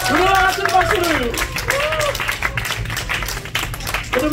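Church congregation at a revival meeting clapping together, the applause running steadily under a singing or calling voice that rises and falls over the first seconds, fairly loud and close.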